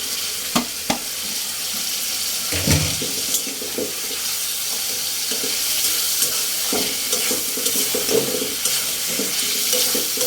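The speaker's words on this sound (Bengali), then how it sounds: "এটা একটু ভালো করে কষায় তারপর আমি ঝোল দিয়ে দেবো।" Fish pieces and tomato sauté in a hot pan with a steady oily sizzle, broken by sharp stirring scrapes and clunks from a spatula, heard close up without any voices.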